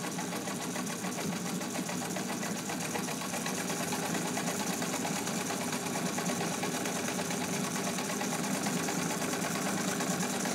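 A restored pink Necchi BU Nora sewing machine stitches at lower speed in a steady, unbroken whirring hum with a fast, even needle chatter, running alone at constant volume throughout.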